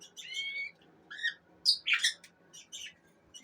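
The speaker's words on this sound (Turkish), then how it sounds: "kanarya takımımız var. Yumurtaya yatıyor." Yellow-and-red rutino canaries chirp and trill in a bird room, with several bright, near bursts of song and calls separated by short pauses.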